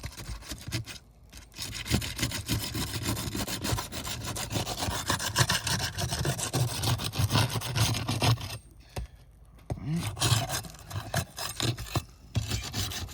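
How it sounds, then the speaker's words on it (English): A flat bar pries up a wind-damaged roof shingle with continuous scraping, rubbing and gritty tearing sounds, in near, irregular bursts broken by brief pauses. "I'm going to go ahead and take up this wind damaged shingle to access those fasteners."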